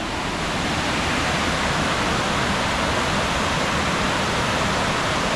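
Waterfall at Paine Falls Park in Painesville, Ohio, a steady, dense rush of falling water that roars evenly throughout with no voices.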